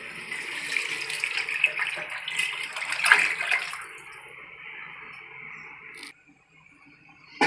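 Water is poured steadily into a cooking pot for mutton biryani, a continuous splashing hiss that runs for about four seconds and then softens to a faint trickle before stopping.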